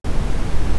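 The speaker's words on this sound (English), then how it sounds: "red noise sounds like this" A burst of deep, rumbling red noise, heavy in the low end with little hiss, steady and loud for under a second.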